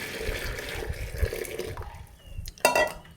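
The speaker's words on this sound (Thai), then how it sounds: "กวยสำหรับเทน้ำใส่กระบอกนะครับ" Rainwater is poured through a funnel lined with tissue paper into a container, a soft trickling and splashing that swells into a brief, louder gush near the end, with no talking.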